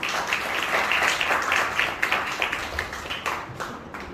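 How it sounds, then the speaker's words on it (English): Audience applause for students at a school interns' farewell, a dense continuous wash of clapping that holds steady and then thins toward the end, with faint voices mixed in. "A big round of applause for our students."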